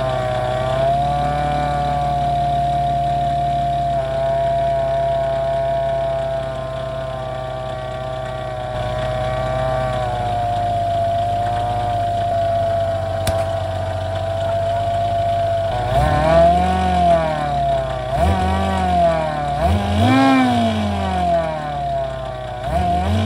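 A car engine fitted with an inexpensive SC14 supercharger on a slightly misaligned pulley idles with a loud steady whine, then revs up sharply several times in quick succession near the end.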